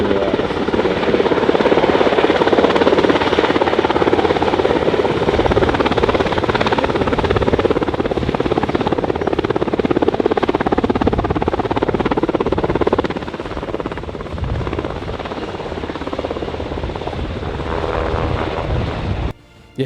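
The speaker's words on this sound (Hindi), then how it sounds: "यह माना जाता है कि चौथी जनरेशन का यह हेलीकॉप्टर आज की तारीख में पूरी दुनिया में नौसेना में काम आने वाला सबसे एडवांस हेलीकॉप्टर है।" An MH-60R Romeo naval anti-submarine helicopter flies nearby, its rotor and turbine giving a loud, steady whirring drone that eases slightly partway through before holding on.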